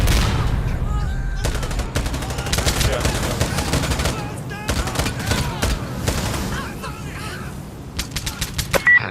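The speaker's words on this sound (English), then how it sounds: "Enemies fire! Enemies fire!" Enemy gunfire in Insurgency: Sandstorm, bursts of rapid automatic rifle shots crackling in clusters at varying distances, with voices shouting over the firefight.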